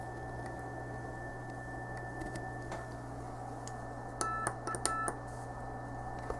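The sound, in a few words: Pixie radio transceiver signal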